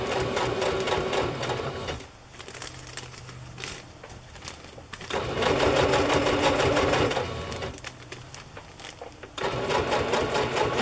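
A sewing machine stitches slippery placemat material in loud, rapid bursts, starting and stopping in three runs separated by quieter pauses.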